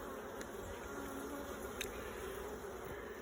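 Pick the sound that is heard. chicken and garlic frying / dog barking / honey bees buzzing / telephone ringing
honey bees buzzing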